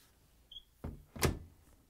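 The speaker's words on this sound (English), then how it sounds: "Close the door." Front-load washer door on a Frigidaire/Electrolux machine shutting during a door boot seal repair: a soft thump, then a louder latching thud, both close and quiet, with no talking.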